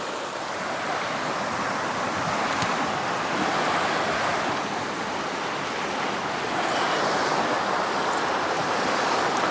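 Water pours steadily into a shaving rinse bowl, a continuous close splashing and gurgling rush that holds at an even level throughout.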